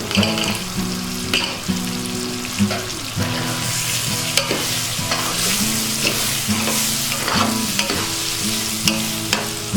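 Steady sizzling as kidney beans are stirred into gravy in a pan, with the scrape and slosh of stirring, while soft tonal music plays in the background.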